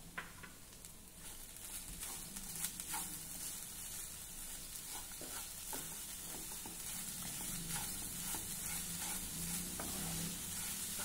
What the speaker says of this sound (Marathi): आता हा गूळ विरघळेपर्यंत आपल्याला हे सारण व्यवस्थित शिजवून घ्यायचं आहे